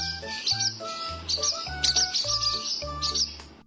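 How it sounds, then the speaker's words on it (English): Swallow chirping in quick, bright bursts of repeated tweets, with a low melodic music bed playing underneath throughout. "Hello, kids. I'm a swallow."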